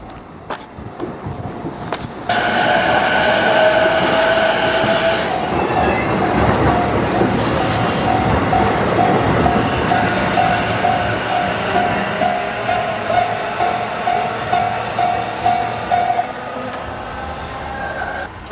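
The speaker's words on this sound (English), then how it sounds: "so this is the track that the freight train uses" A freight train rolls slowly through a residential level crossing in Japan, giving a steady close rumble of wagons with a sustained high wheel squeal and light rhythmic clicking over the rails. No one speaks.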